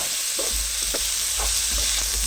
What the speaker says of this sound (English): what I'm doing is frying off this mince.